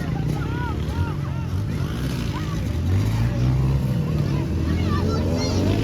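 Kids ride dirt bikes around an outdoor riding field at a Baltimore dirt bike camp, small engines buzzing and rising and falling in pitch at a moderate distance, continuous under a background murmur of voices.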